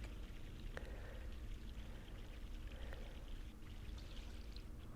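Water pours steadily in The Longest Journey video game, a continuous, fairly faint splashing wash that runs unbroken for several seconds with no talk over it.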